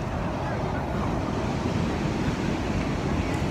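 Sea waves wash ashore at Ain Diab beach in Casablanca around sunset, a steady broadband roar of surf mixed with wind buffeting the microphone, constant and fairly close throughout.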